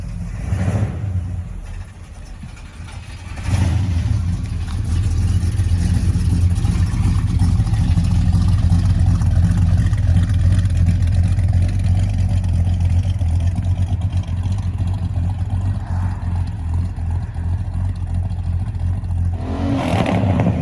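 A 1967 Pontiac GTO with a deep, loud V8 rumble pulls away and cruises down the road, its engine droning steadily and close for most of the stretch after a quieter idle at the start.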